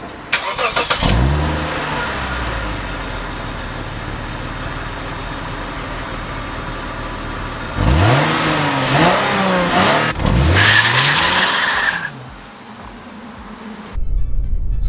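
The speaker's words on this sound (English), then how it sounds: "I think the V6 really sounds good too." A Lexus IS250 V6 revs hard on a test drive, with a sustained engine drone broken by several sharp rising and falling revs near the car.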